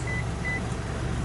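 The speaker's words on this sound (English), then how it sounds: "it gives you a beeping sound once" Warning beep from the seat of a 2019 Toyota Land Cruiser as the seat goes down: two short, high electronic tones in quick succession over a low cabin rumble, with no talking.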